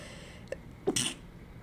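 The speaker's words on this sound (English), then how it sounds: "How weird is that I sneeze?" A single close sneeze, a short sharp inhale followed by a bright burst of breath, with a brief catch before it.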